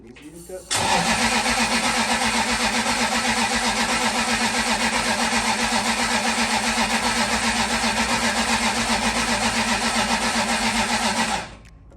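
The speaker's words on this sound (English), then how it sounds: "The engine was cranking." A Toyota Hilux engine cranks and catches, then runs steadily and loudly for about eleven seconds before cutting off abruptly.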